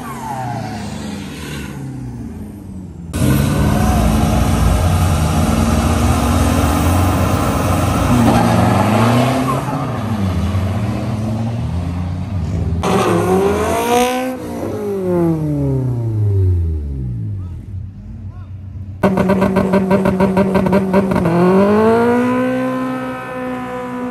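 Toyota Fortuner and a van launching in a drag race at the Motul Drag Master Cup 2022: loud, close engine roars with repeated revving and rising-pitch acceleration sweeps, heard in several bursts with no talking.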